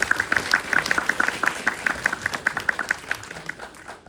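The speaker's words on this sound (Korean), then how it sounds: "박수 주세요." An audience applauds at a film festival Q&A after a guest's answer, a dense round of many hands clapping near and loud, with a brisk rhythm that thins and fades toward the end.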